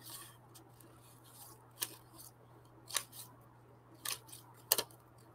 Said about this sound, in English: Always move the piece you're cutting, not your scissors.